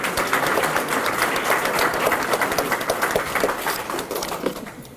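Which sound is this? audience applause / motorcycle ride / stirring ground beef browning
audience applause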